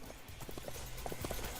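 A horse mount's hooves clip-clop in the video game Sacred 2, a quick, irregular patter of soft knocks at moderate distance, heard alone.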